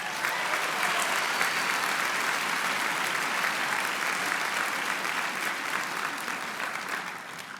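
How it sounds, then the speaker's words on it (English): Graduation convocation audience gives sustained, dense applause that fills the hall from start to finish, loud and steady with no talking. "I think you deserve a big round of applause."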